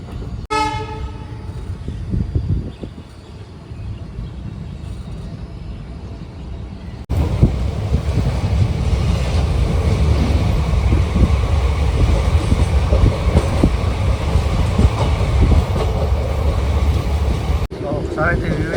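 A passenger train running on the line toward Goa in the early morning, its horn sounding at the start before a loud, steady rumble and rattle of wagons takes over and carries on to the end.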